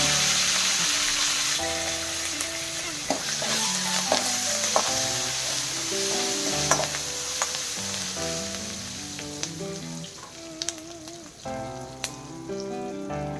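Curry leaves hit hot oil in a pan while jowar puffs chivda is cooked, giving a steady, close sizzle with stirring. Background music plays throughout.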